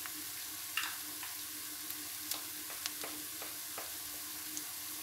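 Red chilli powder and spices are stirred into softened onions in a pan, giving a faint, steady sizzle broken by a few light spoon scrapes and taps.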